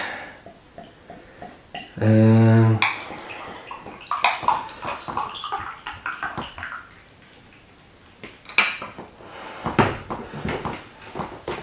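Amber ale from a Black Sheep Brewery bottle is handled and poured into a glass, with a sharp tone at first, then glassy clinks, scrapes and a gurgling pour, close and fairly loud.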